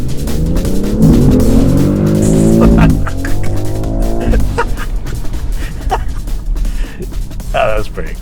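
A 2025 BMW X3 M50 mild-hybrid SUV launching under launch control, its engine revving up loudly through a rising tone and shifting as it pulls away hard, with voices reacting over the acceleration.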